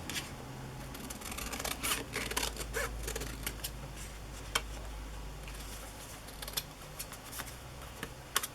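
Scissors snip through patchwork fabric for a handmade Christmas journal, giving a run of sharp, close cutting clicks over a low steady hum, with no talking.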